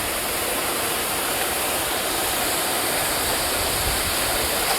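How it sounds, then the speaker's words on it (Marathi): A jungle waterfall roars in a steady, dense wash of falling water, loud and unbroken throughout with no voices. "पाणी कसं पडतंय बघू शकता तुम्ही"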